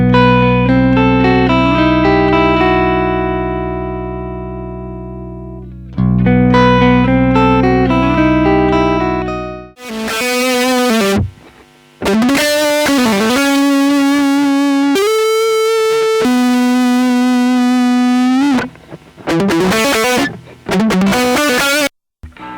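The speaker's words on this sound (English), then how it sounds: "the Ironheart was recorded with cabinet emulation switched off" Laney Ironheart guitar amp recorded straight over USB with cabinet emulation off, playing loud distorted electric guitar: sustained chords and bent notes, then abrupt stops and bursts of harsh, fizzy lead phrases.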